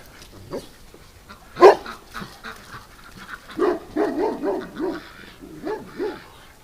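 A dog outside a duck enclosure in winter, giving a sharp bark followed by a string of whimpers, whines and soft yips, fairly close and alone without talk.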